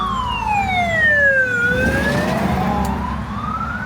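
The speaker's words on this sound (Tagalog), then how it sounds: "Oh, fire truck." A fire truck siren wails in sweeping rising and falling tones from a road jammed with traffic after an accident, loud and steady over engine rumble, with a brief voice exclaiming once.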